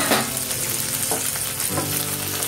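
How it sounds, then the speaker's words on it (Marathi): Green chilli thecha, a village-style Maharashtrian chilli mash, sautés in a pan with a loud, close, steady sizzle and a few stirring scrapes, no one talking. "याला एकदा परतून घेऊया।"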